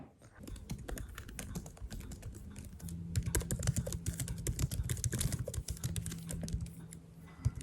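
Steady rapid keystrokes on a computer keyboard while writing, a dense run of close, crisp clicks and taps with a soft low hum underneath, continuing without pause and with no voices.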